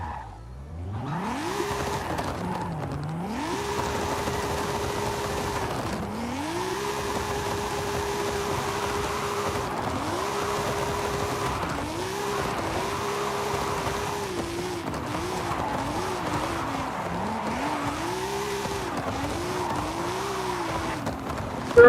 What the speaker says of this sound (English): we can go back to drifting